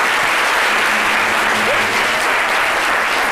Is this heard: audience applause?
yes